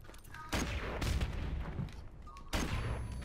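Grenade explosions and gunfire erupt in a Call of Duty 4 search-and-destroy match, with three sharp, loud blasts about a second apart over a rumbling background of shots.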